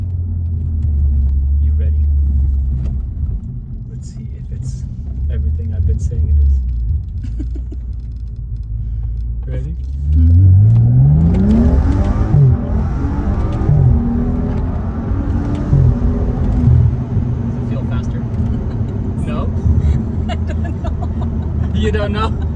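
A BMW 335i with an N55 engine and an E30 blend stage 2 tune idles with a low rumble, then accelerates hard with a rising engine note partway through, while people talk inside the car.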